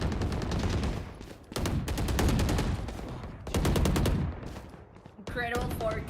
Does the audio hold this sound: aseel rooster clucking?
no